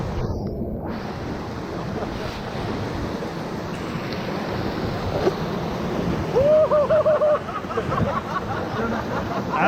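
Whitewater rapids roar at Witch's Hole on the Middle Ocoee River during a raft trip, a loud, steady rush of churning water and splash with wind buffeting the microphone throughout.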